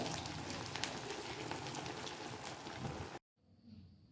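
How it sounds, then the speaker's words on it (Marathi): Coriander vadi frying in hot oil gives a steady, dense crackling bubble that runs loud and even, then cuts off abruptly into a brief quiet with faint sizzle returning. "मी वडी टाकून घेणार आहे त्यात अगदी खरपूसही तळून घ्यायचं चांगलं"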